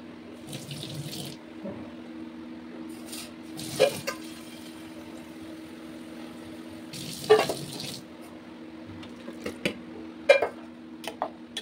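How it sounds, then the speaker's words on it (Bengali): Water from a tap runs into a pot of nearly cooked rice, a steady close flow with a few louder splashes and clinks in a quiet kitchen. "ভাতে জল কম ছিল, আমি আবার একটু জল দিয়ে দিলাম"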